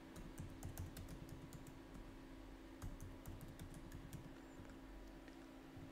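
Fingers typing a password on a computer keyboard in a quiet room, a quick uneven run of soft clicking keystrokes with a short pause midway.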